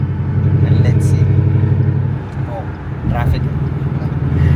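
Ford Mustang engine with its exhaust valves open, a deep steady rumble that dips briefly and then swells again, heard close from the car on a coastal climb with traffic around.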